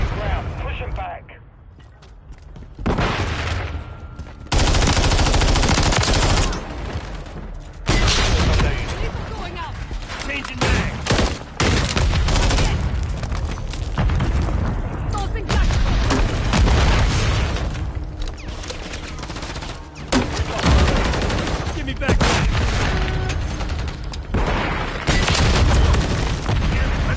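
Gunfire rages in a Call of Duty: Modern Warfare III multiplayer match on the Drive Thru map: dense, loud automatic bursts, booms and explosions run almost continuously, with voices calling out over the shooting.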